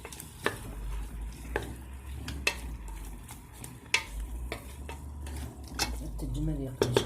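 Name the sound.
frying and stirring food in a pan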